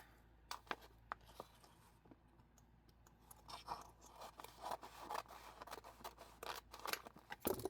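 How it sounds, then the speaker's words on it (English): Scissors snip through transfer tape in a quiet craft workspace, a series of crisp, close cuts with small crunchy rustles that grow denser and louder toward the end. "I'm going to take some of my transfer tape here, and I'm just going to cut enough off"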